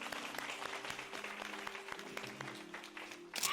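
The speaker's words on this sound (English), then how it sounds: "Round of applause." An audience at a luxury real estate event gives a round of applause, faint and somewhat distant clapping with a brief louder burst near the end.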